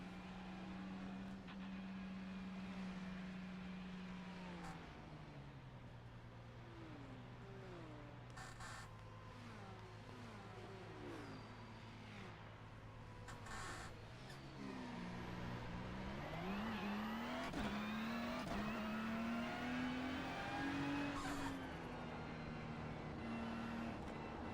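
GT3 race cars in a racing video game scream along the Suzuka start-finish straight, engines rising and falling in pitch as several pass in sequence, with a louder, higher-revving surge building toward the end.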